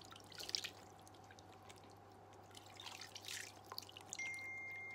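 Faint water drips and small trickles while a face is washed, scattered soft splashes against a steady low hum, close by and quiet, with no talking.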